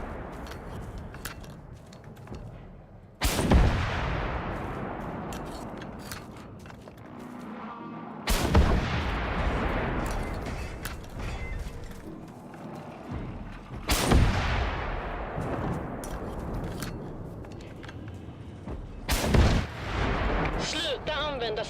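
Rockets firing and exploding in the Generation Zero video game, four heavy booming blasts spaced several seconds apart, each trailing off into a long rumble over continuous background battle noise.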